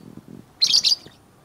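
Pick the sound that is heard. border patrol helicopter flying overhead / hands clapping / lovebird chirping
lovebird chirping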